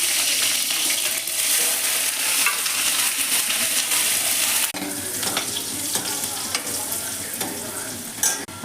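Green chilies fry in very hot oil for a mixed vegetable curry, giving a loud, steady, crackling sizzle that continues throughout, with a sharper spatter as something is stirred or added partway through.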